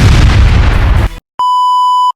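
A loud, roaring blast tears through as a school is destroyed in the movie Sleepover, cutting off abruptly before a steady electronic beep rings out alone.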